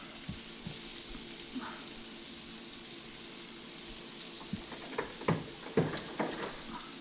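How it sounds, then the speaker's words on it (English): Squirrel meat sizzling and spitting in a hot pan, a steady frying hiss with occasional louder pops and crackles, close by. "this is just like frying chicken or pork chops or anything else."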